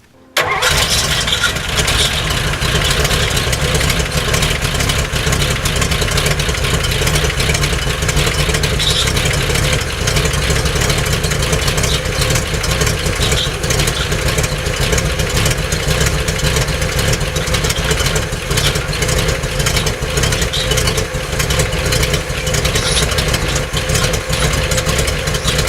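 A 1955 Chrysler New Yorker engine catches on its first cold start and keeps running, a loud, steady, rough idle rumble that continues unbroken to the end with no talk over it.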